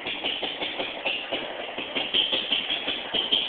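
A 15 horsepower electric-start engine running on hydrogen in a shop, a steady pulsing drone with a bright upper hum, close and fairly loud, with no voices over it.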